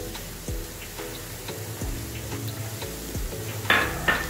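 Fenugreek seeds tipped into hot spiced oil in a pan for a daana methi dish, with a steady sizzle under repeated scraping stirs and light metallic clinks of a spoon against the pot, no voices.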